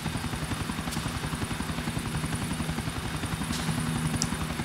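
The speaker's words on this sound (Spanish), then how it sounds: "Voy a mantener el helicóptero, Remo Six." A helicopter in the video game GTA IV drones steadily with a fast rhythmic rotor thump throughout, loud and alone without any voices.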